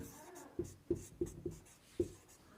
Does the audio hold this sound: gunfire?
no